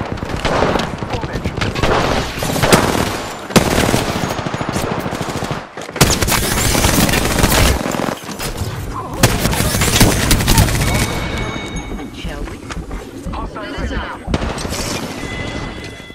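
Heavy gunfire in an Apex Legends squad fight, loud rapid automatic bursts and booms almost continuously, with players shouting over it.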